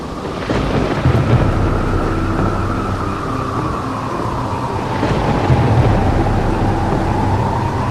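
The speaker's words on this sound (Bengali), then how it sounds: "বাইরে তুমুল ঝড় বৃষ্টি হচ্ছে কালবৈশাখীর ঝড়ের সাথে মুহুর মুহুর বৃষ্টিতে ভেসে যাচ্ছে চারিদিক" Kalbaishakhi nor'wester storm with heavy rain, loud continuous roar of downpour and rumbling thunder, with heavier thunder swells near the start and again around the middle, no voices.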